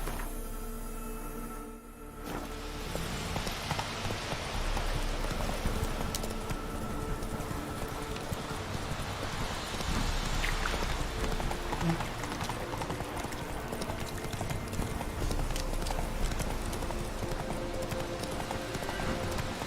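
Hooves of the horse Roach in The Witcher 3 clip-clop steadily in a fast galloping rhythm, close and continuous, with game ambience underneath and no voices.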